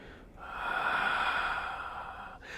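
One long, steady exhale through the mouth during a gentle seated yoga twist, close and clear, swelling then tapering off over about two seconds.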